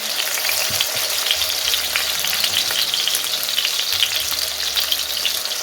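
Chapli kebabs of raw minced meat frying in a pan, a loud, steady sizzle and crackle that fills the whole stretch with no talking.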